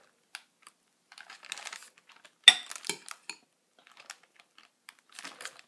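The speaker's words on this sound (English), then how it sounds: "I'm just going to scoop that up, fill up the bag" Kernels of corn being scooped into a plastic Ziploc bag: sparse clicking, rattling and crinkling sounds in quiet surroundings, with one sharper clatter partway through and small scattered ticks.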